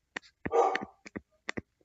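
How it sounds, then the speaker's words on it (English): A dog barks a few times nearby, short sharp yips in quick succession with one longer whining bark in the middle, heard alone without talk. "sorry for the dog"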